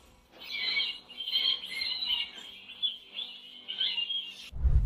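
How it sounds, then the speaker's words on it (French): Birds at a nest give a continuous run of thin, high chirps and squeaky twitters, close and fairly loud, ending with a sudden low thump. "Ces 2 oiseaux se nourrissent"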